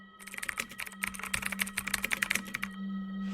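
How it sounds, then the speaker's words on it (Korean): Rapid, uneven clacking of typewriter keys, a close burst of sharp strikes over about three seconds with a steady low hum underneath, ending abruptly; no voices. "바로 타자기를 치기 시작했어요"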